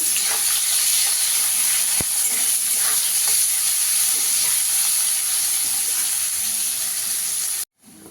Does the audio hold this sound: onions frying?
yes